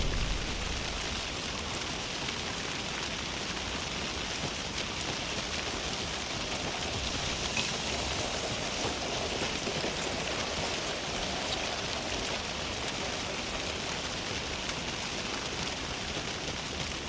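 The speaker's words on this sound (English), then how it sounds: "I do like the rain though." Steady, even rain from the video game Alan Wake 2 hisses at moderate volume without a break, a dense wash of falling drops with no voices over it.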